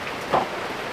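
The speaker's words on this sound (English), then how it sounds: "At least the rain has just washed the sweat off Tony." Rain falling on a sailboat in Trinidad, a brief soft hiss of drops on the surface with one slightly louder patter near the middle.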